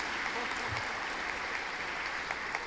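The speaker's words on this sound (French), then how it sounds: "votre applaudissement a l'air plus naturel que tantôt" A church congregation applauds during mass, a steady, dense wash of clapping from many hands that fills the room evenly for a few seconds with no voices over it.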